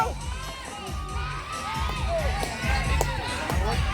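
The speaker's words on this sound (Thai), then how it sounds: "ขอแรงเชียร์หน่อยเชียร์" At a third-place final football match on an artificial-turf pitch, a crowd of young spectators cheers and shouts with whoops and rising yells, loud and continuous, mixed with a commentator talking over it.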